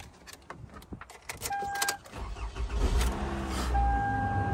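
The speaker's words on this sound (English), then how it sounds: "Let's see if we're gonna crank up." A salvage-auction BMW M3 convertible engine cranks over after a few clicks and light rattles, then catches and settles into a steady, close-miked idle.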